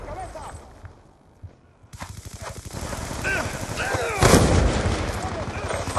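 Rapid bursts of video game gunfire and booming blasts, a loud explosion near the end, with a voice talking over the battle.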